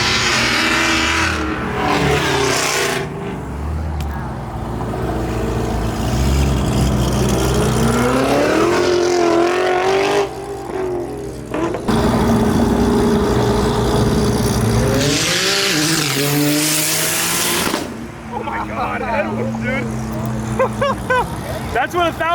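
Supercars pulling away from a car meet, among them a 1,000 horsepower Porsche 911 Turbo S, with loud engine revving and acceleration sweeping past nearby, under people talking and cheering.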